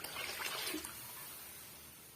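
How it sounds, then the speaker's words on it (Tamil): Water is poured into a pot of sambar with cooked dal, a soft splashing pour that quickly fades to a faint, quiet wash. "தேவையான அளவுக்கு தண்ணி சேர்த்துக்கலாம்"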